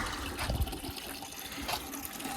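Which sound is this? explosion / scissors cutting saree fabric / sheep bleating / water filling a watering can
water filling a watering can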